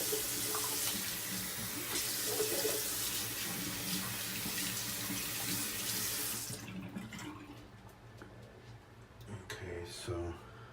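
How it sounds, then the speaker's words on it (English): A tap runs over a shaving soap puck being rinsed, a steady bright splashing that cuts off after about six seconds, followed by quieter handling clatter and small knocks. "Just rinsing off the puck"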